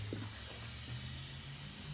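A spray paint gun blows out paint reducer to clean itself, giving a steady hiss that runs through the whole moment, with a low hum underneath.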